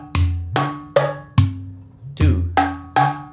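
A drum pattern from a Takeda drum lesson, played three times with a variation added on the fourth, sounds as a series of sharp, ringing strikes in an uneven rhythm, loud and close with a clear pitched tone and no talking.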